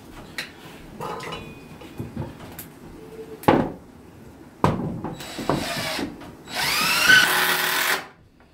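A power drill drives screws into a wooden 2x4 rack in a few short whirring bursts, close and loud, with a longer sustained run near the end and clunks of wood handling between.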